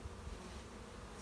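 Honey bees drone in a steady, dense buzz at an open hive while beekeepers work through the frames, the swarm noise close and continuous with no talking.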